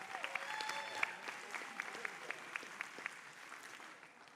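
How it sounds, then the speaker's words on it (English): A small audience claps politely for an honor student at a community public-safety meeting with the mayor, steady scattered clapping with a few sharper single claps standing out, moderately faint and roomy. "let's all clap for Emily"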